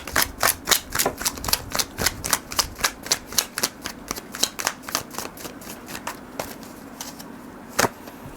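Tarot cards are shuffled for a reading, giving a steady run of crisp, close slaps and riffles repeating several times per second, with no voices.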